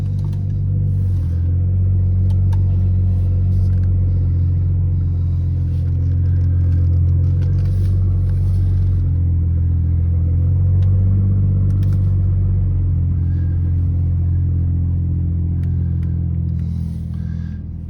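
Heard from inside the cabin, a BMW G42 M240i with a muffler delete and Dynomax race exhaust gives a deep, steady engine rumble while driving, loud and continuous with slight swells in pitch and no talking.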